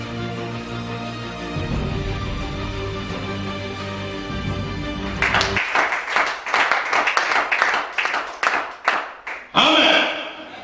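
Church congregation at a Gabonese prophet's teaching service bursts into applause, dense rapid clapping swelling loudly after a stretch of sustained music and voice, with a sharp final burst.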